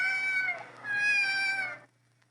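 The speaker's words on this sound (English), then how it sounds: "Here, kitty, kitty, kitty. Nice kitty, kitty." In a Star Trek audio drama, a cat gives two drawn-out, tonal meows back to back, clear and close, then falls silent.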